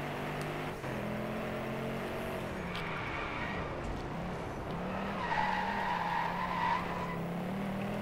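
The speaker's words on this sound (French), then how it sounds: "je suis en train de glisser dans tous les sens" Buggy sliding and skidding in the Drive Club racing game, a continuous engine drone with tire scrub rising slightly toward the end, steady and fairly loud with no talk.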